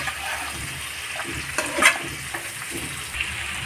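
Chicken and spice masala sizzling in a pan while being stirred, a soft continuous fry with scraping strokes and one brief louder clatter near the middle, no voices.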